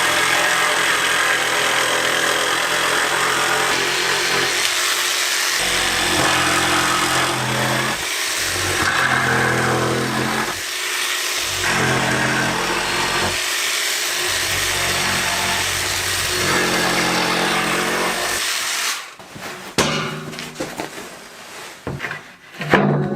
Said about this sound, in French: Voilà, je fais ça à la scie sauteuse.